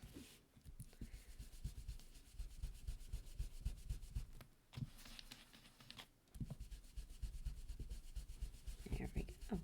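A blending tool rubs Distress Oxide spun sugar ink onto card in quick, soft, repeated scrubbing strokes, close and quiet, with a few short pauses.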